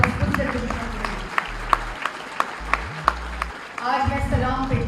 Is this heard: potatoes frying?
no